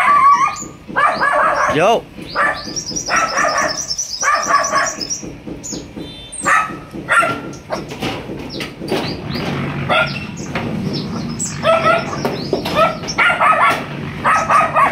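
A dog barks intermittently amid a busy outdoor scene, with people talking loudly throughout and birds chirping faintly in the background.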